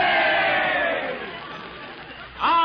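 A crowd cheers at a football game in an old radio show, a loud roar of massed voices fading away over a couple of seconds before a short fresh burst of shouting rises at the end.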